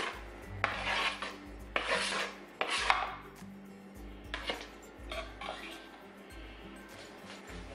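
Seasoned carnitas meat and onions being mixed in a pan, with scraping, rubbing utensil strokes and a few sharper clinks against the pan, fairly quiet and irregular, with no talking.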